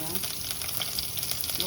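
Whole spices such as cinnamon, cloves and cardamom frying in hot oil for pulao, a dense, steady close sizzle with faint stirring.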